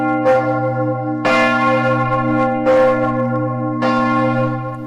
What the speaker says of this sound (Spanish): este repique de campanas nos indica